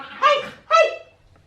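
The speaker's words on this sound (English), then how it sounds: "that is my babies in the background, my dogs. They are playing, causing trouble and too much noise" Dogs at play let out two loud, close barks in quick succession, each a short yelping burst, with a quiet pause after.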